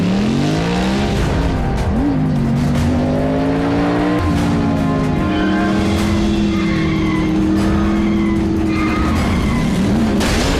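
Cars race along a road, engines whining and rising and falling in pitch with tire squeal, loud and continuous throughout.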